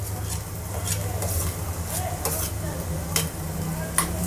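Finely chopped onion and green chili frying in oil, a steady close sizzle with repeated spatula scrapes and light clinks against the pan, under a low hum.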